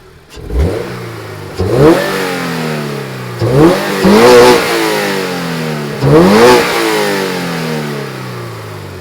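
A 2022 Subaru BRZ fitted with an MST intake is revved hard four times from idle, each blip rising sharply with a throaty intake growl before dropping back, loud and close.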